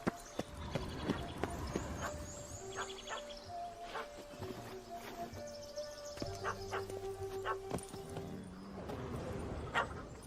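A dog in The Witcher 3: Wild Hunt barks and yips in repeated bursts, mixed with horse hooves clopping, a whinny and game ambience, fairly faint throughout.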